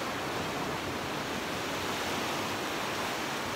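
Ocean waves at Cabongaoan Beach in Burgos, Pangasinan make a steady, dense roar of surf that fills the whole moment without a break.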